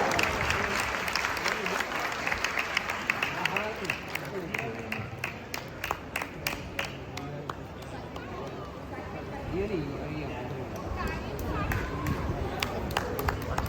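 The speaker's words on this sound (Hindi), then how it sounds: "तालियां थोड़ी कम लग रही है इस बच्चों की उम्र के सामने। जोरदार।" Audience applause for children's cultural performance at an Arya Samaj annual function in Ghatkopar, steady crisp clapping with sharp individual claps, backed by crowd murmur and a voice speaking over it.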